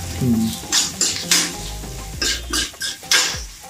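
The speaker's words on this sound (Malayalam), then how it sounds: "പിന്നെ ഇളക്കുക." Wheat noodles seasoned with sambar powder are stirred in a pan, giving scraping, clinking strokes of a utensil against metal in uneven bursts over a light frying sizzle, close and fairly loud with no talking.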